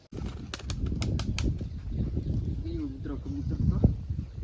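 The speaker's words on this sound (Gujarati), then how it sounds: "કબૂતર હમણાં ઉઠશે" A wild pigeon bursts into flight from a tree with a quick flurry of wing flaps, followed by soft rustling and a faint voice in the background.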